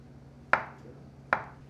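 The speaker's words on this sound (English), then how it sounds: "I'm gonna cut my avocado." A knife cuts through an avocado on a board, two crisp close knocks spaced under a second apart, each with a brief ringing decay, in a quiet kitchen.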